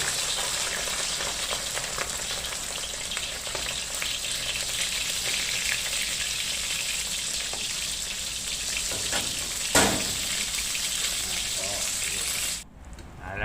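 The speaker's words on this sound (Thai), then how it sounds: "นี่กระทะน้ำมันร้อนพอดีแล้วกับปลาทูลงไปเลย" Mackerel frying in hot oil in a pan, a steady crackling sizzle that runs throughout, with a brief clatter near the end.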